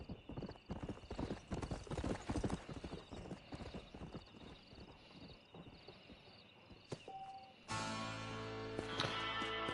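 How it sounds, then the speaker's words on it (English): Rhythmic clip-clop of horse hooves as a rider travels toward town in the Western video game Red Dead Redemption, steady and close, occasional whinny, ending in a sustained tonal game ambience. "I'm only gonna ride to town to hitch the horse"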